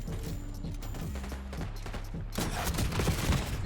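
Gunfire from a GPR 91 rifle in Black Ops 6, with shots growing denser and louder in the second half over steady in-game background sound.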